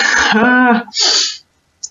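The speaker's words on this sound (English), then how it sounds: "I'm about to sneeze" One close sneeze: a voiced, drawn-in 'ah' breaks into a sharp, breathy burst, followed by a brief quiet.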